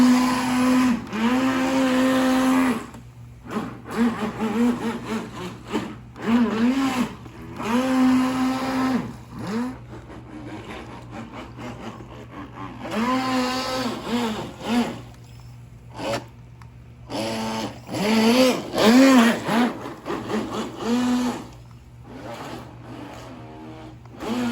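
A Traxxas Blast RC model runs loud and close with a whiny, revving motor that rises and falls in bursts, cutting out between runs, with no talking.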